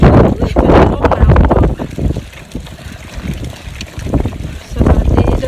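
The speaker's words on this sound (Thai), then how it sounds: "เป็นลมหนาว" Strong, cold outdoor wind buffets the microphone with heavy, gusting low rumble while someone talks over it.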